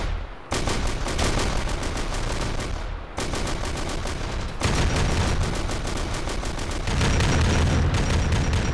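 Dense bursts of video game gunfire from an Elysian Drop Trooper recon match, rapid automatic shots with booming impacts filling the whole stretch, loud and close, no talking.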